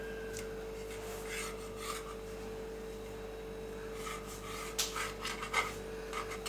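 Knife cutting out the centre of a slice of bread for a sandwich, giving soft repeated rasping strokes over a steady background hum, growing a little louder near the end.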